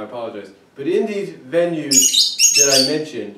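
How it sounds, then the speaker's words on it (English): A bird calls in the background of an indoor recording, a few high chirping squawks rising over someone speaking close to the microphone, which carries on throughout. "and that's the bird in the background"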